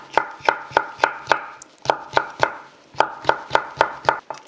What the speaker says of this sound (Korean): 이렇게 채 썰어 주세요.